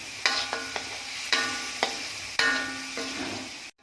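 Spice paste sautés with bay leaves, lime leaves and lemongrass stalks, sharp repeated spatula scrapes and clanks striking over a continuous sizzle, ending abruptly.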